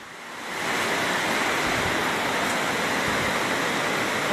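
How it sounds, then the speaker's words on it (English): Floodwater rushes through a flooded Sunnyside housing scheme, a steady broadband roar that swells in within the first half second and then holds loud and unbroken, with no voices. "It is not a river, it's a housing scheme and it is flooded."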